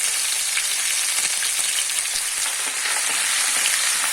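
Cumin seeds and ginger-chili paste sizzle in hot oil for pav bhaji, a steady dense frying hiss with faint crackles holding even loudness throughout, no voices.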